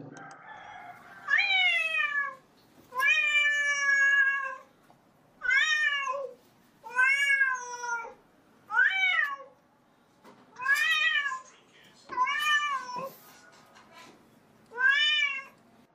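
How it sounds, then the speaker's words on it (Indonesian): A cat meows eight times in a steady series, each call drawn out and rising then falling, loud and close with short pauses between. "tadi adalah suara kucing"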